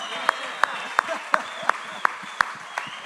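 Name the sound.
audience applause for Corey's upside-down surfboard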